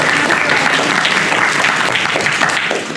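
A school board meeting audience gives a brief, steady burst of applause for fifth-grade students, dense and fairly loud throughout.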